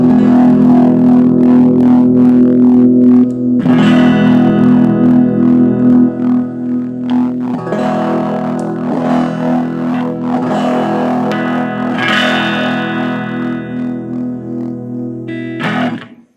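An Epiphone Les Paul electric guitar rings out loud through distortion and effects, sustained chords and notes held with strong harmonics, shifting every few seconds before a final strum cuts off.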